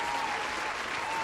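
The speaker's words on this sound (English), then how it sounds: "Round of applause for us." A short burst of applause at a podcast recording, steady dense clapping at even loudness throughout.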